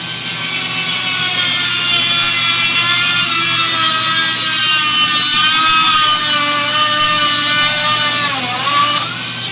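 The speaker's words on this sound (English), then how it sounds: "I'll use the Dremel to finish the cut" A Dremel rotary tool grinds through quarter-inch plane blade stock for a finger plane, a loud, steady high-pitched whine with bright overtones that dips briefly near the end as the cut finishes.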